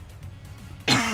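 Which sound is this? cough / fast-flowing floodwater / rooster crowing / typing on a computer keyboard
cough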